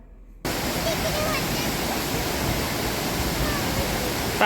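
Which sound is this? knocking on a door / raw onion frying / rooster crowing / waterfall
waterfall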